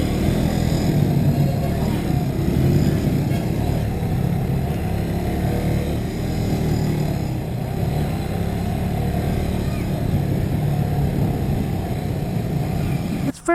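A 2020 Kawasaki W175 SE motorcycle being ridden gives a steady, close engine drone with wind rush, holding an even pace for the whole stretch and ending in a brief knock.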